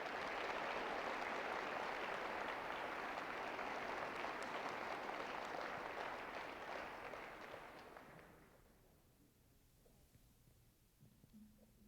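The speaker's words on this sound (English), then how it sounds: "So please give a round of applause for Kathy." An audience at a Kansas education event gives a warm round of applause, steady dense clapping that fades away after about eight seconds, leaving quiet room tone.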